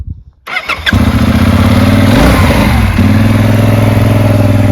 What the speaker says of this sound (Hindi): थोड़ा स्टार्ट करके आवाज़ सुनाएंगे सिकंदर भाई?